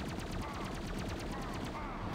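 Rapid automatic weapon fire in a dark video game, a dense, loud, evenly spaced burst of shots lasting the whole moment.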